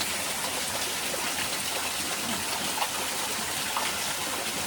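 Water from a small mini waterfall pours steadily into a cold outdoor stream in Maryland, a continuous broadband rush that stays close and even throughout with no talking.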